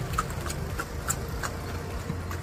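Hooves of a horse drawing a cart clip-clop along Rampur Road in Haldwani, a steady rhythmic trotting of hollow knocks at moderate distance over low road and traffic rumble.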